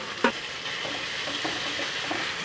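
Capsicum and tomato frying in a pan, a soft steady sizzle with a sharp utensil knock early on and light scraping stirs scattered through, quiet and close.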